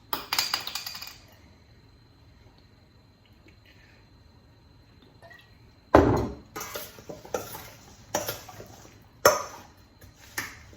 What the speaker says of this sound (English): Gonna give it a good mix.